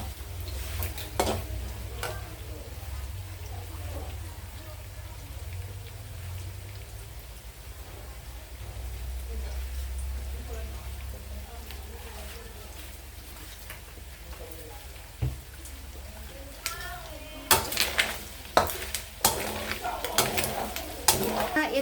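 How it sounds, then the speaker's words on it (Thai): About one and a half kilos of pork rinds fry in oil in a pan with continuous soft sizzling, later joined by sharp scraping and clattering strokes from stirring that grow louder and more frequent toward the end. "เราต้องคนไปเรื่อย ๆ แบบนี้นะคะเนี่ย คนไปเรื่อยๆ คนไปเรื่อยๆเลยค่ะ"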